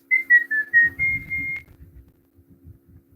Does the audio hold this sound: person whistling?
yes